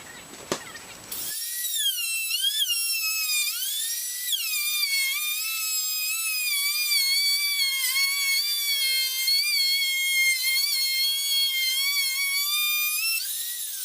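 A power drill whines steadily with rising and falling pitch as it drives small screws into a bookcase, loud and close, running continuously for several seconds.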